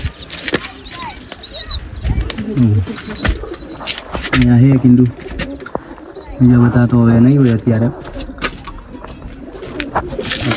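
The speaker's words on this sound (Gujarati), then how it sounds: "કબૂતર છે અહીંયા." Pigeons coo in low, throaty bursts at close range, with someone talking intermittently and occasional wing flutters around them.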